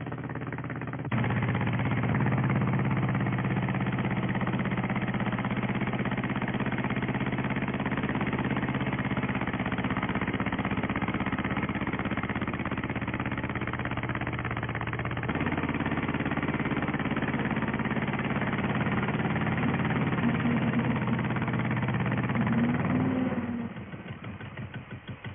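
A John Deere 420 tractor engine labors under load while pulling a three-bottom plow, a steady, throbbing mid-pitched chug that holds for over twenty seconds and then drops away near the end, heard alone without talk.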